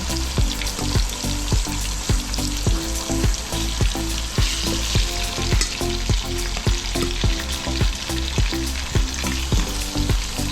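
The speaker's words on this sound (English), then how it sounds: "I'm gonna let these sear" Lamb chops searing in a hot pan, a loud, continuous sizzle and crackle of frying meat with regular scraping or tapping knocks repeating throughout, close up and with no talk.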